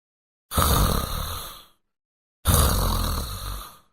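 A man snores loudly in his sleep at night: two long, rasping inhaled snores, each lasting over a second and separated by a silent pause, close and heavy.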